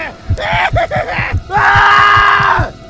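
A person screams in an animated horror story set on a KFC night shift: two loud, sustained shrieks, the second longer, with a gasp-like break between them and a rhythmic low thumping underneath.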